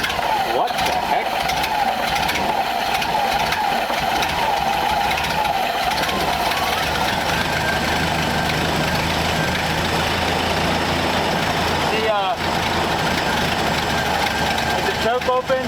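A Ford F600 truck engine runs at a steady idle, a continuous rumbling drone with a faint catch near the end, while people talk over it throughout.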